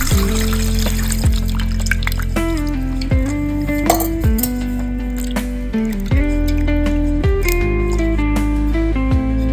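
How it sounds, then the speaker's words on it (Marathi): Three kingfish (surmai) are rinsed in water in a kitchen, with loud close splashing, squishy handling, dripping and occasional clinks from the vessel in an irregular rhythm as the fish are washed. "आता आपल्याला याला स्वच्छ धुवून घ्यायचे। 3 ते 4 वेळेस आपण स्वच्छ धुवून घेऊया।"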